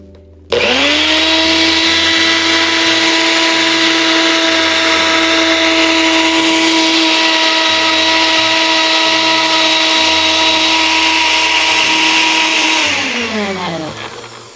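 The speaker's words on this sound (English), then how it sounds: "Now we're gonna blend it to get a uniform consistency." A blender grinding dry spices whirs loudly and steadily up close for about twelve seconds, then winds down as it is switched off.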